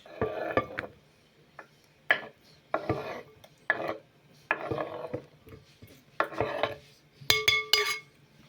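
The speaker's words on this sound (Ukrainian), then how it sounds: "Перемішуємо все гарно." Chicken heart salad is tossed with a utensil in a bowl, heard as a series of irregular clinks and scrapes against the dish in short uneven bursts, close and moderately loud, with no talking.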